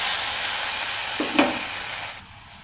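Water splashes into sizzling mint masala in a hot pan, a steady loud frying hiss interrupted by a brief pour and bubbling burst, then the sizzle drops quieter.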